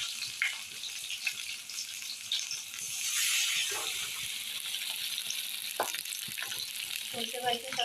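Battered elephant foot yam leaves frying in hot oil in a kadai, a steady crackling sizzle with rattling stirs and scrapes, brief faint voice sounds near the end.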